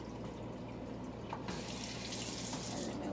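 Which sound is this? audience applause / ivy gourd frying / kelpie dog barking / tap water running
tap water running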